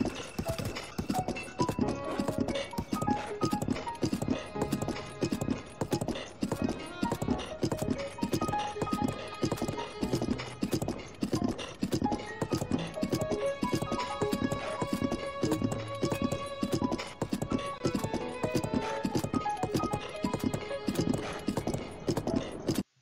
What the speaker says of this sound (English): One example of this mixture happens when Link rides his horse undisturbed and includes a familiar tune